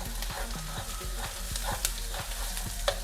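Minced garlic frying in a pan with tomato sauce and fried tofu, a steady close sizzle broken by repeated sharp scrapes and taps of a utensil stirring, with no voices.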